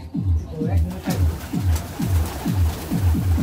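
Domestic pigeons coo repeatedly up close, a steady run of low, rolling calls about every half second with a bird fluttering softly in the background.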